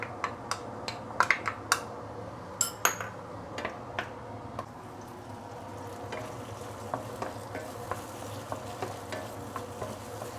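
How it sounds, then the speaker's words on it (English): Tomato and tomato sauce sauté in a pan for tomato eggs, a soft continuous sizzle with scattered light clicks and scrapes of stirring, close and fairly quiet throughout. "Always saute tomato and your tomato sauce to really get the nice color out of it"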